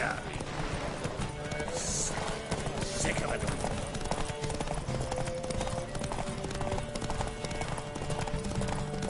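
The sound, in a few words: horse galloping in a race, from a video game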